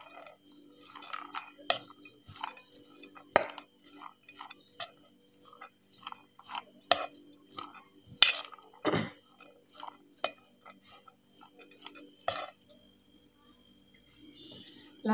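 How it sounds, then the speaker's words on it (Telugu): Barley salad being stirred with squeezed lemon juice, a spoon clicking and scraping against the bowl in a steady series of light, close ticks and taps with quiet pauses, no talk. "ఇలా నిమ్మరసం వేసుకొని అన్నిటికి పట్టే వరకు బాగా మిక్స్ చేసుకోవాలి."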